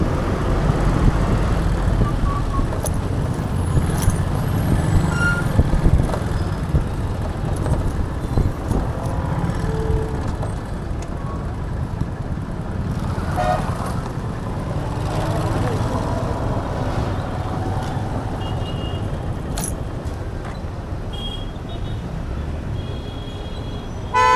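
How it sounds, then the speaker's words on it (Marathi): Stopped and slow traffic on the Mumbai–Nashik highway rumbles nearby, with engine drone, passing vehicles and occasional short horn toots, while people talk over the scene. "हे पहा जबदार गाड्या आल्या रे मध्ये ट्रॉफिक लागले"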